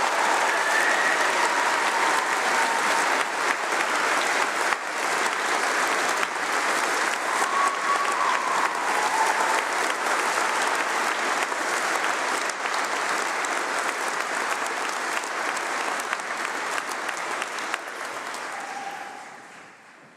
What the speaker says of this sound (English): give us another round of applause